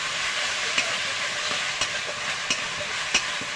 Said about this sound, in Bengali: টমেটো দিয়ে দেবো।